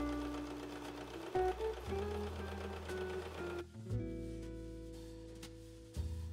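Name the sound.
domestic sewing machine sewing buttonhole stitch on jacket trim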